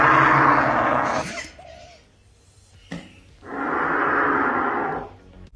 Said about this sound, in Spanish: Esta es una avutarda australiana